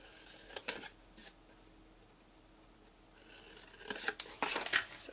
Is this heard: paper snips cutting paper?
yes